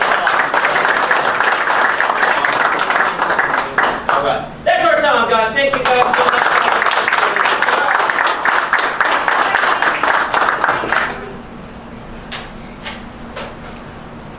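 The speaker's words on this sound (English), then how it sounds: "Give these guys a big round of applause" Applause at a magic show on stage at the Ohio FCM 2020 convention, dense clapping from a crowd that swells, dips briefly, then fades out under someone speaking.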